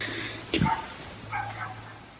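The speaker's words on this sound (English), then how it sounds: "and dogs barking ominously from the next house" Dog barking from the house next door at night, two short muffled barks at a distance, faint against a steady low hum.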